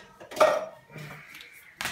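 A chopping board and knife set down on a kitchen counter before onions are cut for an Indian keema dish, making a clattering knock followed by a softer pause and a second sharp knock near the end.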